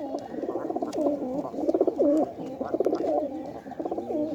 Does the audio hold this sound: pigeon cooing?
yes